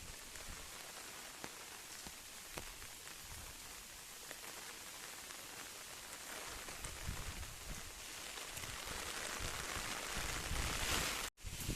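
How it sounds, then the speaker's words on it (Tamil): Heavy rain from Cyclone Fengal pours down steadily on a rooftop terrace, a dense, constant hiss of drops hitting surfaces, swelling slightly louder toward the end. "இப்ப பார்த்தீங்கன்னா செம்ம மழை பெஞ்சுன்னு இருக்கு தெரியுதா"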